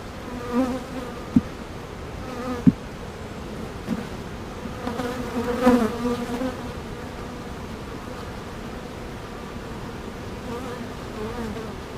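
Honey bees buzzing steadily around an open hive during an inspection, a dense close drone with occasional louder passes and light handling taps, no speech.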